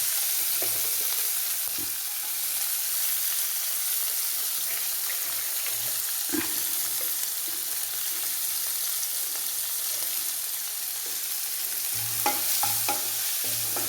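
Steady sizzling of onions frying in a pan, with occasional scraping and stirring knocks throughout, close and fairly loud, no voices.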